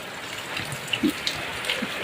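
Soft, steady patter of light rain with a few scattered drops landing nearby, gentle and even throughout the short stretch.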